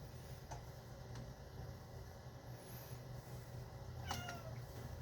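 Cats crowd around spaghetti in a home kitchen, a single short meow arriving near the end after several seconds of low steady room noise and faint clicks.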